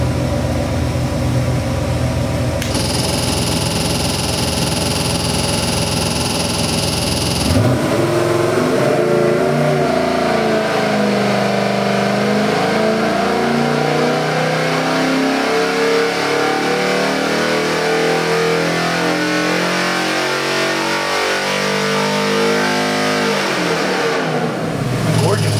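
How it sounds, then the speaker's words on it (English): A Gen III Hemi 392 cubic-inch, 650 hp Mopar hot rod engine runs on a test stand, rising from idle into a loud, sustained high-RPM rev that holds and then drops back down. "Come up, go on a high RPM and come down on set height."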